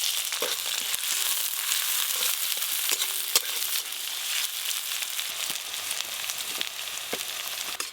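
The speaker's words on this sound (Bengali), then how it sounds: "সর্ষের তেল, চিচিঙ্গা পোস্ত রান্নার জন্য এই যে গোটা জিরে ফোড়নে দেব" Whole cumin seeds sizzle in hot mustard oil, a dense steady crackle close up with small pops scattered throughout and no voices.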